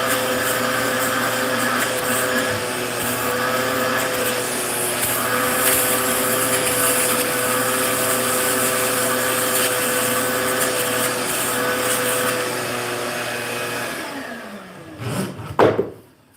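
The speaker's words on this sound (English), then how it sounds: "I didn't figure this old vacuum would have that much suction." An old vacuum cleaner runs in a garage workshop with strong suction, giving a loud, steady motor whine and airflow roar that holds for most of the stretch, then cuts off, followed by a few brief clunks.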